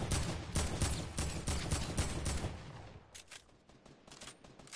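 Rapid bursts of AK rifle fire from a video game, dense and continuous for about three seconds, then thinning into scattered, quieter shots.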